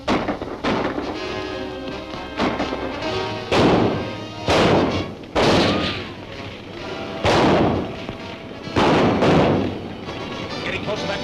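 Gunshots ring out in a 1939 Dick Tracy serial, a handful of sharp, booming reports spaced a second or two apart, loud and close, with voices and a soundtrack underneath.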